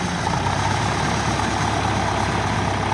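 A tractor engine runs steadily at close range while hauling trolleys of soil. It gives a continuous, even rumble with a low throb and no breaks.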